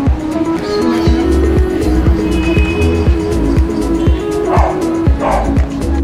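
A puppy barks and yips repeatedly in a steady rhythm, loud and close, with a whimper mixed in and faint traffic noise behind.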